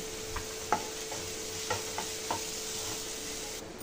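Onions and curry leaves frying in a pan, a soft steady sizzle with a few sharp clicks and scrapes of stirring, fairly quiet and close.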